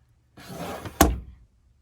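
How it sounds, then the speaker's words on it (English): A stuck kitchen drawer is yanked, producing a short scraping rumble that ends in one sharp, loud thunk, close up with no talk. "This drawer is stuck. I can't get it open."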